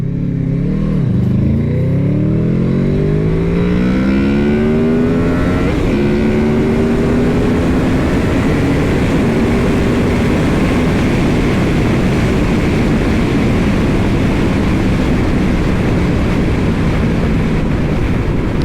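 A 2014 Honda VFR800 motorcycle launches hard and accelerates, its engine rising loudly through rapid revs and gear changes before settling into a sustained high-speed drone.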